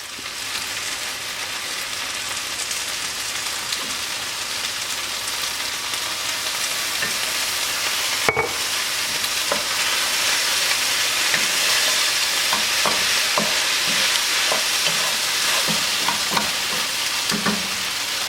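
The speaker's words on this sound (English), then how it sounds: "To the chicken that's in my frying pan, I'm going to add in 3½ teaspoons of rice wine." Continuous hissing sizzle of chicken frying in a pan with rice wine added, close up, with scattered light clicks and scrapes of a utensil.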